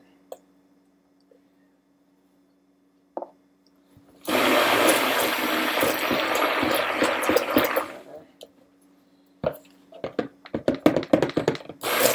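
Soap batter pours in a continuous, broad rushing stream for several seconds during mica swirl soap making, followed by clattering handling noises close by.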